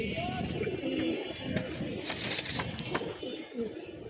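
Young pigeons released alongside adult birds from a loft coo in close, throaty bursts, with some fluttering and a voice faintly in the background.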